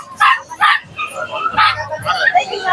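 Puppies at an outdoor pet market, including Pomeranians and corgis, give several short high yips and barks near the listener, mixed with someone talking.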